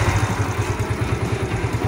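A Yamaha YBR Factor 125 motorcycle, up on its stand, runs in second gear with the throttle held open, giving a loud, steady, rapidly pulsing engine beat close by with no talking.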